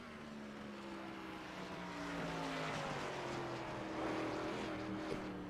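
Race car engines at the Milwaukee Mile in an Xfinity Series race, a sustained droning whine with gliding pitch as cars run on the track, loud and continuous with no talk over it.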